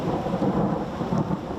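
Heavy rain pouring outside schools with low rolling thunder, a steady dense roar of downpour that stays loud throughout with no speech.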